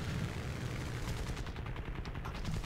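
Aircraft machine guns fire in the War Thunder video game during low-level air combat, a continuous rapid rattling burst that stays dense and loud throughout the brief stretch, with no pauses.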